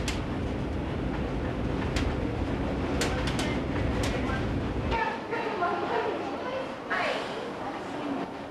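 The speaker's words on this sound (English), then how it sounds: "It runs in Seattle and is America's first and only full-sized commercial monorail." The Seattle monorail, America's first full-sized commercial monorail, rolls along with a steady broadband rumble, its low end dropping away partway through as sharper clicks and hiss continue.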